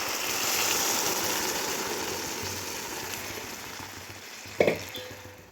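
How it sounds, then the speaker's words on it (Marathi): Tamarind water poured into a sizzling sautéed mixture of spices with chilli, salt and turmeric gives a steady frying hiss that slowly fades, with a brief clatter near the end. "यामध्ये मी चिंचेचं पाणी टाकत आहे"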